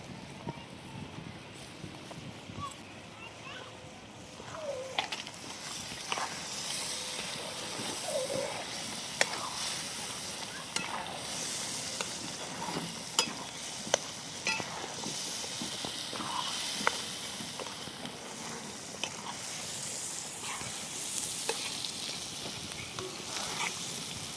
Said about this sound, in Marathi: आता वाटलेलं वाटण त्यात टाकते